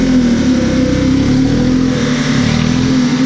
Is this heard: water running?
no